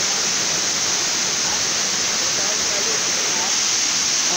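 A waterfall pours over rocks in a steady, dense roar of rushing water that fills the whole clip without a break.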